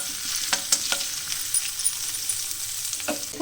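Chopped ginger and green chillies frying with hing in a pan, a close, continuous sizzle broken by a few sharp stirring taps of a spoon against the pan.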